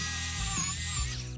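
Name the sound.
drilling a pocket hole with a pocket hole jig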